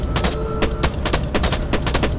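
Bursts of gunfire in the Choo Choo Charles video game, a run of sharp shots in clusters of rapid cracks over a steady game background, loud and close with no talk.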